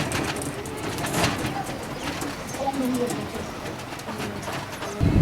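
A breeding racing pigeon from a loft coos in low, soft, repeated calls. Someone talks over it, and a clatter of movement comes near the end.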